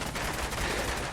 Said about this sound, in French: Il y a quelque chose qui me tire dessus.